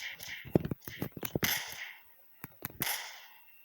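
In a video game, a shotgun fires a string of sharp, loud shots in two irregular clusters, with short gaps between bursts.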